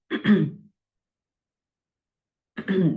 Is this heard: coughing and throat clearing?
yes